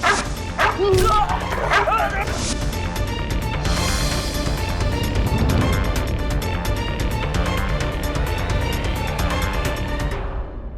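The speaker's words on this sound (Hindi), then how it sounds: "एक कुत्ता।" A dog barks and yips in a courtroom drama scene, with whimpering cries early on, set in a dense, loud mix of music and background noise that continues throughout.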